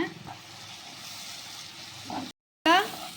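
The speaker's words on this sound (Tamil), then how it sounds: "இப்போது நம்ம துருவி வச்சுருக்க தேங்காயை சேர்த்துக்கலாம் சேர்த்து எல்லாத்தையும் நல்லா வதக்கிக்கலாங்க" Grated coconut sautés with egg masala in a pan for egg thokku, a soft, steady sizzle and occasional stirring close by, broken by a brief cut before a short tonal sound.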